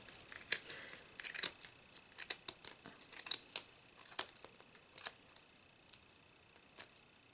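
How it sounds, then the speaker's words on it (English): Scissors snipping through yarn while trimming a pom-pom for a Halloween candy corn craft, a run of crisp, close, irregular cuts, some quick doubles, fading to occasional single snips. "Follow the other line with my scissors."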